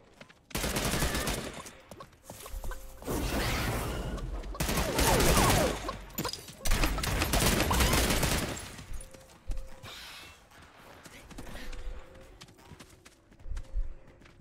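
Gunfire in the video game Realm Royale arrives in loud, dense bursts of rapid shots. The volleys are separated by brief lulls and fainter scattered shots and clatter.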